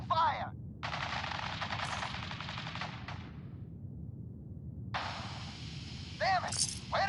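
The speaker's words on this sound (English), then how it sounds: "Men, open fire!" Bursts of automatic gunfire in Fallout 4: a short volley, then a sustained rattling stretch of about two seconds, a quiet gap, and another long burst, loud and close over a low ambient rumble.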